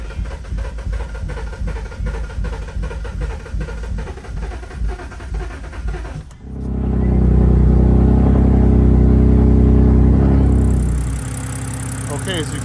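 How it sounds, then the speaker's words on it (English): A BMW 328i with the N51 engine, an E90-series car that had a crank-no-start fault, runs at a steady idle. The loud, low rumble sets in partway through after earlier mechanical clatter and holds steady to the end. "as you can see, the car is running. It's running nicely actually."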